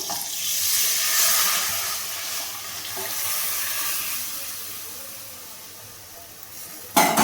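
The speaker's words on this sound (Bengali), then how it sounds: "এখানে যে আমি ডালটাকে সেদ্ধ করে রেখে দিয়েছিলাম সেটা আমি কড়াইতে দিয়ে দেবো" Boiled mung dal poured into a kadai of fried mango for a summer aam dal, giving a steady close wet hiss and slosh with a brief clatter near the end, no talk.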